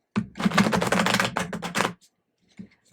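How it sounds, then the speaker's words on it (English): An oracle card deck shuffled close up: a dense, rapid flurry of papery riffling and flapping for about two seconds, then a couple of faint taps in near silence. "I'm going to shuffle here for a minute my Chris Ann Sacred Creators Oracle."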